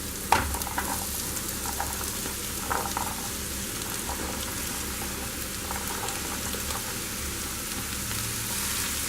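Sweet pumpkin pieces stir-fry in an oil tempering with paste in a pan, giving a low, steady sizzle with a soft clack of stirring near the start.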